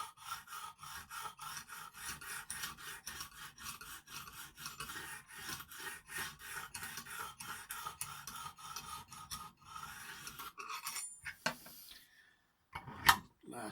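A Lansky sharpener hone draws across a Stedemon A01A knife blade of CTS 204P steel in quick, regular rasping strokes, close and evenly paced, ending in a few looser scrapes and a sharp knock.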